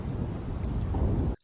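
Cartoon thunder during a lightning storm over a village river at night, a heavy rolling rumble with rain-like hiss that cuts off abruptly, followed by brief faint sounds.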